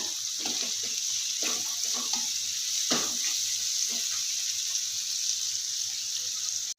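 Mixed vegetables with cauliflower fry in a pan with a continuous close hiss, broken by scattered clatters and splashy bursts as they are stirred.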